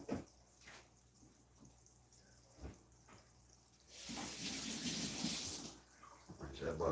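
A kitchen tap gushes water to rinse butter off, a sudden loud broadband rush lasting about two seconds after quieter clinks and background voice, then tapering.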